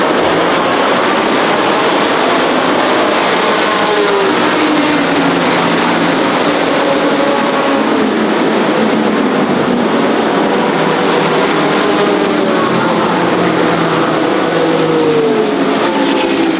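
Classic race cars lapping the Montjuic street circuit, engines roaring steadily from a rooftop vantage, several cars blending into a continuous loud drone with passing pitch sweeps and no talk.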